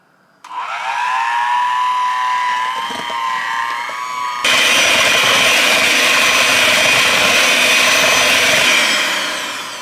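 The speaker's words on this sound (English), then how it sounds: "I have my handy dandy mixer here. I'm going to go ahead and mix this up." An electric hand mixer beats coconut pie filling until smooth, its steady motor whine loud and close, shifting to a harsher, fuller tone partway through as the beaters dig in.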